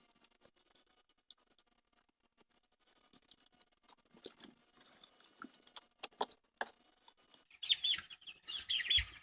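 High, thin peeping from young turkeys, many overlapping chirps close by, with scuffling and handling noises between them.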